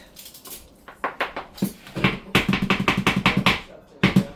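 A little metal spoon clinks and rattles against dishes and utensils in a kitchen, a quick irregular run of sharp taps and scrapes close by, louder and denser toward the end.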